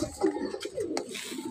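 Racing pigeons coo in soft, low repeated phrases, a few short rolling calls close by over a faint background.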